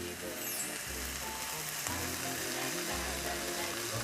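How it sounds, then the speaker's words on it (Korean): Zucchini goes into a pan of sizzling cabbage, mushrooms and other vegetables for jajang sauce, and a dense, even frying hiss carries on steadily at close range for the whole stretch. "이제 호박을 넣겠습니다"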